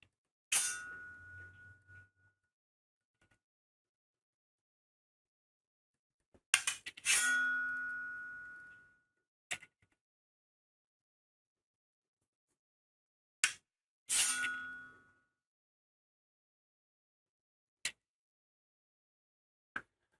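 A metal book divider is struck and scraped metal on metal, giving several separate bright clangs with ringing tails, spaced apart by silence, plus a few short sharp clinks, close and clear.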